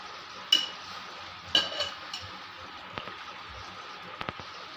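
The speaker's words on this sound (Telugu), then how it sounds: "గోంగూర వేసుకొని కలుపుకోవాలి." A spoon stirs chopped red gongura leaves into chicken curry simmering in a pan, giving a few sharp scrapes and clinks over a soft, steady sizzle.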